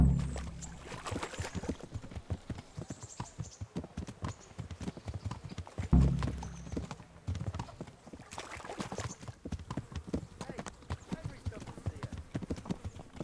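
Horse hooves clip-clop steadily in the medieval game Kingdom Come: Deliverance, a continuous rhythmic trot beneath someone talking, with faint ambient background.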